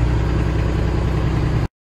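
A Kenworth truck's diesel engine runs at a steady high idle, a loud, constant low rumble close by that stops abruptly near the end.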